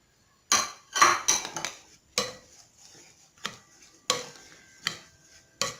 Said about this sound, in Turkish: Domates ve bulgurumuzu iyice kasemize karıştırıyoruz